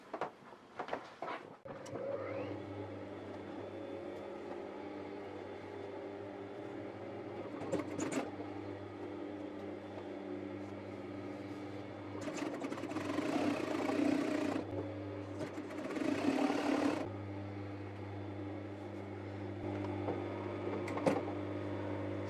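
A sewing machine stitches a fabric hem, its motor hum steady and close with a few louder bursts and pauses, and no one speaks.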